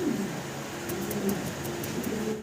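Pigeons in a loft, a seven-feather adult pair, cooing steadily at close range with low repeated calls, alongside faint higher chirps.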